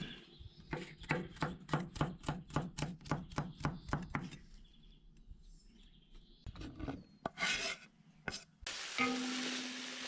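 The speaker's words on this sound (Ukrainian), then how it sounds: "Одразу підготуємо часничок, ми його наріжемо досить крупні фракції." A knife chops garlic into coarse pieces on a board for Georgian ojakhuri, about a dozen crisp, evenly spaced cuts in a quick rhythm, then scattered scraping and handling sounds and a burst of sizzling near the end.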